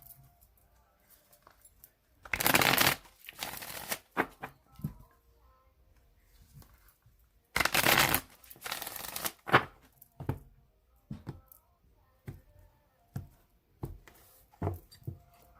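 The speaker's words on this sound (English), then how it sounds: "Your cards do not want to shuffle." Tarot cards shuffled in several separate bursts, two longer riffling runs followed by shorter crisp snaps and taps, close and fairly loud with quiet pauses between.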